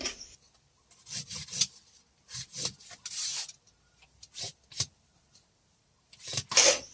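Chalk scraped across fabric to mark a kameez sleeve pattern gives short, scratchy rubbing strokes in irregular bursts, close and fairly quiet, separated by brief pauses without speech.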